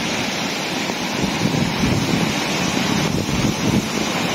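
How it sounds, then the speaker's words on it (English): A raging river rushes loudly beside a flooded tent during heavy rain while wild camping, a steady, dense roar of churning water that fills the whole clip without letup. "The river is raging."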